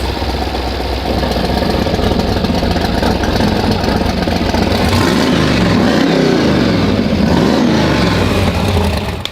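Big block Ford Mustang engine under way while driving, a loud, continuous deep rumble that swells and falls slightly with throttle, close up with no voices.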